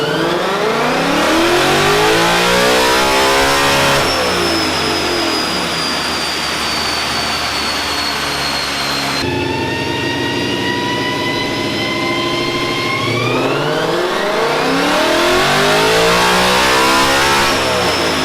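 A Ford Mustang Mach 1 strapped down on a dyno makes repeated full-throttle pulls, its engine note climbing steeply through the gears, then dropping and rising again. The roar is loud and close, with no voices.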